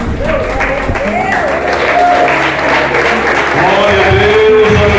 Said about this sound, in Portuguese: Vamos aplaudir o Senhor porque Ele é digno.